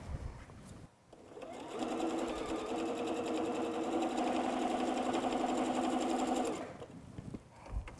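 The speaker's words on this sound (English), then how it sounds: "take these 2 layers and sew an X right through to hold your layers together" Sewing machine stitching an X through two layers of fabric for a small bowl cozy, running in one steady, loud, even buzz for about five seconds with brief quieter handling before and after.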